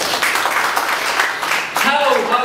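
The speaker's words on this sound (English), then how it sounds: "Let's give God a clap of praise." Church congregation applauding in praise during a sermon, a dense wash of clapping that runs steadily for a couple of seconds, with a voice rising over it near the end.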